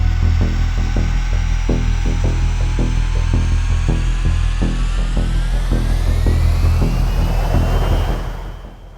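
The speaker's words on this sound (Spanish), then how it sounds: "Con los motores en marcha y tras el remolque hacia atrás, el Boeing 737 inicia el rodaje hacia la pista en uso." Boeing 737 jet engines run steadily as the airliner taxis toward the runway, a loud, continuous whine and low rumble with rising tonal pitch and a rhythmic thumping underneath, fading near the end.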